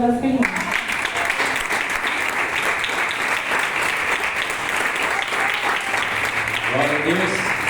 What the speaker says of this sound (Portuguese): que as palmas vão ao Senhor.